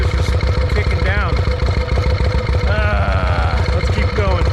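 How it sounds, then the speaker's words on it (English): A Panhead motorcycle engine runs loud and steady with a rapid rhythmic thump, an exhaust leak adding popping and clatter throughout, while a voice talks over it. "And I think it's got exhaust leak. It's popping all over the place."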